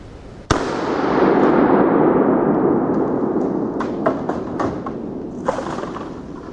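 Single sharp gunshot from a 450 SMC or 10mm pistol at an outdoor range, one loud crack followed by a long rolling echo, then several fainter distant pops.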